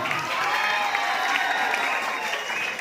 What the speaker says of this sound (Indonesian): Oke, kita berikan tepuk tangan dia dong.